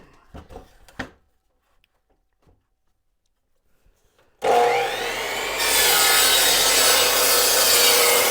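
A saw cuts through knotty wood, coming in loud and abruptly after a few quiet taps and handling noises, with a steady harsh rasping that grows stronger as the cut proceeds.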